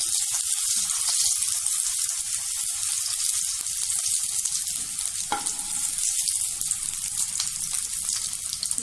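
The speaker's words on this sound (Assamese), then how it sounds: "আলু কেইটামান ফ্ৰাই কৰি লম তেলত" Sliced potatoes fry in hot oil in a home kitchen where whole cumin, coriander and mustard seeds have been added, and a steady, loud sizzle carries on throughout with occasional stirring clinks.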